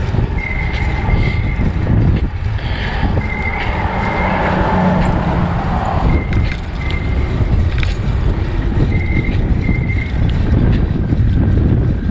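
Strong wind roaring and buffeting the microphone during a morning bike ride, a loud continuous rumble with gusting swells and faint whistling tones throughout.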